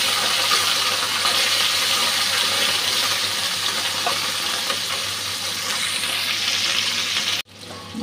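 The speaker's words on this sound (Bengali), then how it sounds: "এটা গরম হয়ে গেছে, মাছগুলো অল্প ভাজবো, বেশি ভাজলে টেস্ট চলে যাবে" Fish frying in hot oil for a Bengali mustard-style fish curry, a steady loud sizzle throughout, close and continuous, cutting off abruptly near the end.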